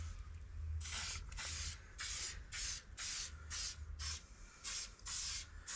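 Rust neutralizer sprayed from an aerosol can onto a rusted Audi A6 C6 fender, about ten short hissing bursts in an uneven rhythm with brief pauses, close and fairly loud over a low background hum.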